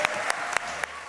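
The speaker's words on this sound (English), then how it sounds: "And now a nice round of applause for all of these candidates." An audience at a League of Women Voters candidates forum gives the candidates a round of applause, brisk, continuous clapping from a seated crowd with a few louder individual claps standing out.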